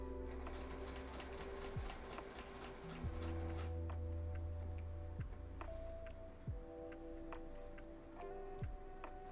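Sewing machine stitching fabric under the presser foot, running in short bursts of rapid mechanical ticking and whirring that stop and restart several times, close and fairly quiet.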